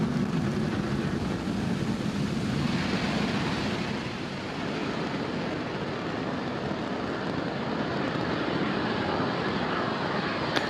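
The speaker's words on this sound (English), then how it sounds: "Falcon 9 has successfully lifted off from Space Launch Complex 40 at Cape Canaveral Space Force Station." A SpaceX Falcon 9 rocket's engines roar during liftoff from Space Launch Complex 40 at Cape Canaveral Space Force Station. The sound is a continuous, dense rumbling roar that stays steady throughout, distant yet powerful.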